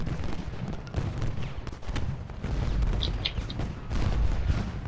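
Cannons in Ultimate General Gettysburg fire in a scattered, uneven volley, with distant booms and crackling reports rolling over a rumbling battlefield backdrop.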